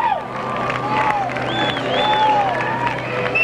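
Crowd noise at a skateboarding world finals: steady cheering and clapping from spectators with whistles rising above it, continuous and moderately loud, with some voices mixed in.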